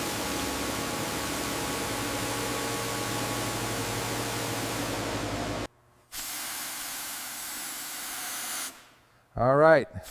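Water spraying onto an unrestored 1936 Bugatti Type 57 Atlantic during cleaning, a loud steady hiss lasting several seconds, then a short break and a quieter stretch of spray, ending in a brief burst of another sound.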